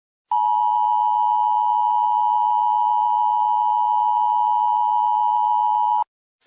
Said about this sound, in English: this station has interrupted regular programming at the request of the United States government to participate in the emergency alert system.